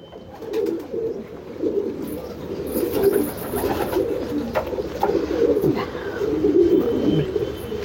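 Canadian racing pigeons, including a female, coo softly and repeatedly in a loft, low rolling calls overlapping close by over faint background noise.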